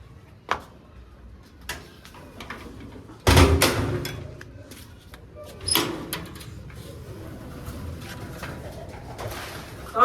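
Pigeons coo softly nearby in low, murmuring calls, with a few sharp knocks and thumps breaking in amid quiet background noise.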